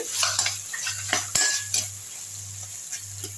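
Tomatoes being sautéed and stirred in a pan over a low flame while cooking Karaikudi goat trotter paya, with a spoon clinking and scraping against metal over a soft sizzle and a low steady hum, close and unaccompanied by talk.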